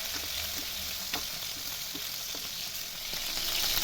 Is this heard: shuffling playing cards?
no